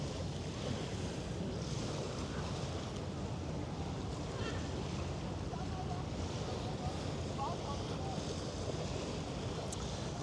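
Waves lapping on a sandy Elbe river beach on a summer evening, a steady close wash of surf with wind noise on the microphone, continuous and even throughout.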